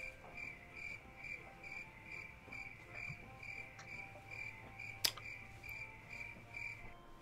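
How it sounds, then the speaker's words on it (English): Crickets chirping as an inserted sound effect during a Sea of Thieves game session, a steady rhythmic pulsing chirp throughout with a brief click near the middle. "I'm just gonna insert crickets in that moment."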